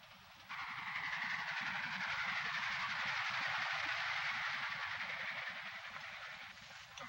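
Steady rumble and hiss from inside a moving train carriage, a constant broad wash of running noise that starts abruptly and holds evenly, with no talk.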